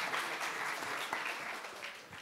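An audience at a French-language roundtable on digital transition and ecology gives a short round of applause, fairly faint steady clapping that thins out toward the end.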